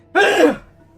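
A single short sneeze, sharp and close, bursting out and trailing off in under a second.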